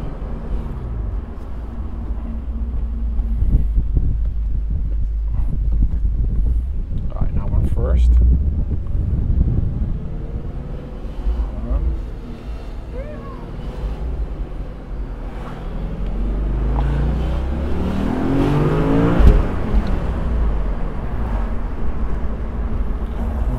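An Audi S4 accelerating in second gear gives a steady, deep engine rumble from inside the car, with wind noise throughout and a brief louder swell near the end.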